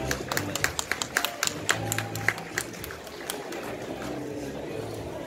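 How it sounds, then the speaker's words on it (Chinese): Audience applause at the LG Signature launch event in Taiwan, a burst of scattered hand claps in a hall that thins out into murmuring crowd noise, moderately distant. "热情掌声欢迎我们的董事长"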